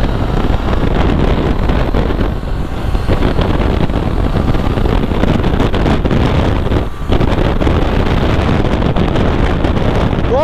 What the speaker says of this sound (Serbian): Dosta me udara vetar gore